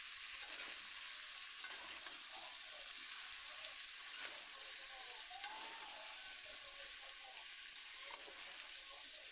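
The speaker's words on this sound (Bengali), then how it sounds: "এভাবে কিছুক্ষণ পর পর নাড়িয়ে চাড়িয়ে আলু ফুলকপি ভেজে নিচ্ছি, লবণ হলুদ ছাড়া।" Potatoes and cauliflower fry in a pan with a continuous soft sizzle, and a utensil stirs them now and then. No one speaks.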